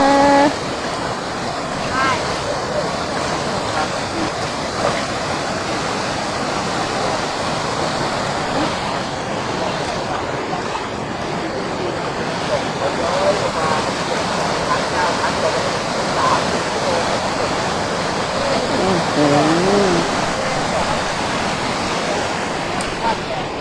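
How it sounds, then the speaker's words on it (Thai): Rushing water at Kaeng Krachan waterfall in Thailand, a steady broadband roar filling the whole scene from start to finish, with a faint voice briefly audible beneath it. "น้ำตกแก่งกระจานนะคะ"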